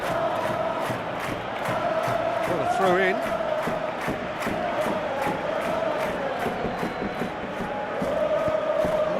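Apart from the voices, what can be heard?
football crowd reacting in the video game eFootball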